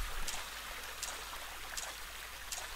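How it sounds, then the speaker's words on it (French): Waterfall water in the video game Rake flows as a faint, steady hiss, a soft continuous rush with a few slightly brighter splashy swells at intervals. "J'ai remarqué que les cascades, ça faisait complètement effondrer mon niveau d'image seconde"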